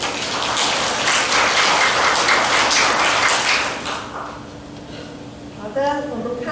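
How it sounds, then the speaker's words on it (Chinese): Church congregation clapping at a Sunday service to welcome a guest, a dense burst of applause for several seconds that fades out, followed by quieter room sound and a speaking voice. "我们先欢迎他， 拍掌一下，好不 好？"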